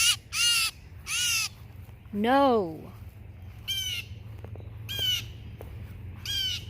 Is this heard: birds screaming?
yes